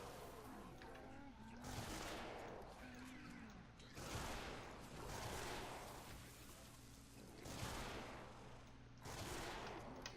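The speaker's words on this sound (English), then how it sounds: "Now I'm going to do headshots on the remainder." Gunshots in a shooter video game, fired as headshots on remaining enemies; sharp, loud single reports spaced about every two seconds, with a steady low in-game hum beneath.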